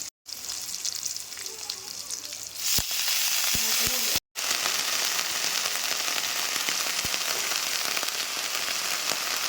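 Vegetables with garlic, chili and salt frying in a hot pan, a loud continuous sizzle close by, broken by brief spoon knocks and a short gap, with no talking.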